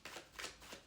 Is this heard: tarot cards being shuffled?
yes